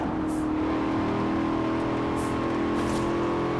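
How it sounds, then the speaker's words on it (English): A custom Corvette Z06 sports car engine in the racing game Forza Horizon 4, a steady loud drone held at constant revs without any talk. "It sounds so good. I love how the Corvette sound."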